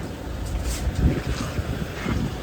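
Ferry crossing to Koh Chang, Thailand, with a steady rush of wind and low engine and hull rumble that stays fairly loud and constant throughout, with no clear voices.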